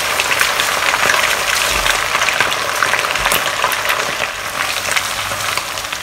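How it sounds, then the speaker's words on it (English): Chicken pieces deep frying in hot oil in a wok for a Chinese spicy chicken and potato stir fry, a dense, steady crackling sizzle with bursts of popping throughout, close and loud with no talking. "just fry them into a light golden brown will be good"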